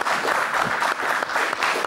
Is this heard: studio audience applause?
yes